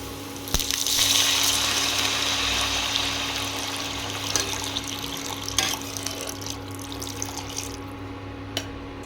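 Water gushes from a tap into a pot of fried onions while ragi soup is cooked, a steady close rushing flow that thins slightly toward the end.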